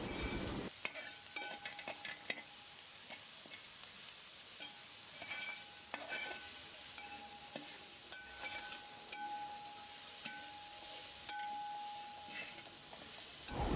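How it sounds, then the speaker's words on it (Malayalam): Sliced onions with green chillies and salt sauté in a pan, giving a steady quiet sizzle with scattered stirring scrapes and clinks of a spoon throughout, no talking. "ഉള്ളിയൊക്കെ നന്നായിട്ട് വഴന്ന് വന്നിട്ടുണ്ട്."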